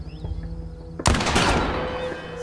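Gunfire in the horror video game The Quarry, a sudden loud burst of rapid shots that sets off a sustained noisy blast lasting to the end of the clip, with no voices.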